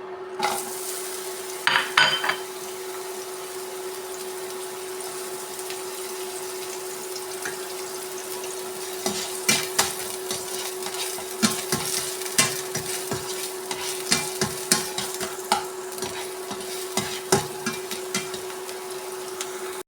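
Onions frying in oil in a pan for cooker chicken curry, a steady sizzle under a constant hum, with frequent sharp scraping stirs and taps later on and no voices.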